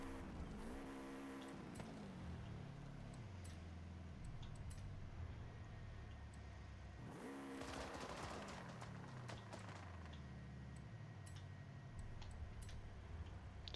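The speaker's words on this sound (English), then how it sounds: "Just wanted to hear the anti-lag" A stock 2022 Subaru BRZ in the Forza Horizon 5 racing game revs and shifts, its anti-lag popping and crackling in rapid bursts between rising and falling engine notes, with a couple of sharp surges in revs.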